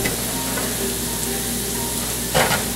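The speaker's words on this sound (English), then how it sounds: "Now, you want to keep tending this, stirring it, making sure it's getting moved around right" Garlic frying in a pan with oil, a steady dense sizzle while being stirred and moved around, with a brief louder scrape of stirring near the end.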